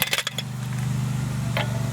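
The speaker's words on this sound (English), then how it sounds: "And now we can loosen our bolts. We'll need to use 19mm socket." A 19mm socket rattles and clinks against the rear wheel bolts of a Volvo XC, with a few quick metallic taps at the start and another near the end over a steady low hum.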